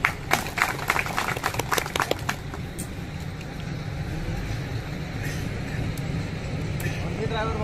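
Audience at a Palghar drivers' association meeting clapping, a burst of scattered handclaps in the first couple of seconds that quickly fades into a murmuring room and background hum.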